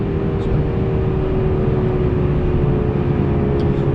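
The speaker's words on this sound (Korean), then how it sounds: "모드에서도 엔진 사운드는 선택을 할 수 있습니다" Renault Samsung SM6 (Renault Talisman) midsize sedan engine in sport mode with enhanced sound, a steady low, thick, booming drone heard from inside the cabin, continuous and fairly loud throughout without talk.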